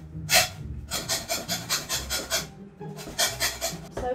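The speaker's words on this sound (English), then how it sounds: "I'm so bad at zesting lemons." A lemon is zested on a grater while baking a lemon soufflé, giving a series of quick, close rasping strokes in two bursts separated by a brief pause, with no talking.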